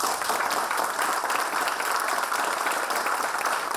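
Audience at a college orientation programme applauds to welcome a guest speaker, a continuous, fairly soft wash of clapping that stays even throughout with no talk over it.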